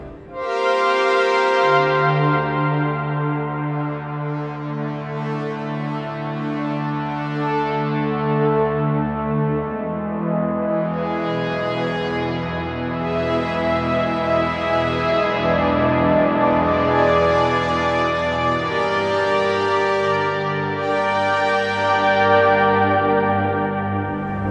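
A large, swelling Nonlinear Labs C15 synthesizer pad drenched in strong reverb, rich bell-like chords that bloom and shift continuously, loud and alone without any talking.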